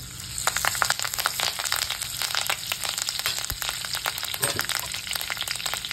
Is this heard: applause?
no